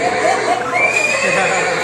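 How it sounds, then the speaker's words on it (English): A horse whinnies in one loud, close, wavering neigh lasting nearly two seconds, a shrill trilling call over a dense background. "That's a horse."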